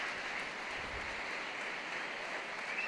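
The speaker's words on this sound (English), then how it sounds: "the Dundee fans applaud him" Dundee football fans at a First Division match clap for an injured player as he leaves the pitch, a steady wash of crowd applause heard from a distance, without any clear voices.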